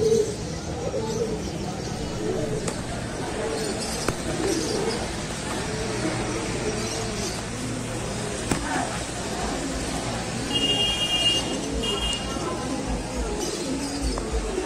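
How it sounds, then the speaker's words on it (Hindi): Pigeons coo repeatedly and overlapping at a Sunday pigeon market in Allahabad, a dense nearby chorus of low rolling calls with occasional chirps, while someone talks over them. "कल्दुमा नीलदुमा कबूतर कितना बेहतरीन है"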